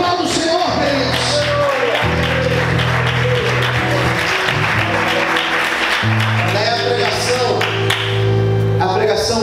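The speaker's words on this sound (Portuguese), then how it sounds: "Você pode glorificar e aplaudir o Senhor nessa manhã." A church congregation applauds during a Portuguese-language service. The clapping is dense and continuous under sustained musical tones and a voice, with the crowd noise holding throughout.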